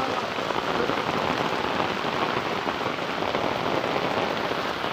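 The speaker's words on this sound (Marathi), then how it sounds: "जोरात जोरात पाऊस येलो बघा." Heavy rain pours steadily outdoors beside a stream where people are fishing, a dense, even hiss of drops hitting the surface throughout, with no voices.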